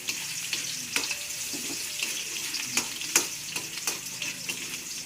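Ginger frying in a pan while cooking kinunot, a steady close sizzle with scattered sharp crackles and pops over about five seconds, no talking.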